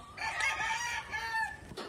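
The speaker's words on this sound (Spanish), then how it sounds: "haciendo un apareamiento individual del gallo Swerdinfer con una gallina Albany Asil" An Albany Asil hen and a rooster cluck close by in a farm coop. The clucking comes as a dense, loud burst of squawky calls lasting a couple of seconds.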